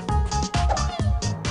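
Several cats meow in quick succession from the audience in the BattleBlock Theatre video game, repeated overlapping meows filling the whole moment, close and fairly loud.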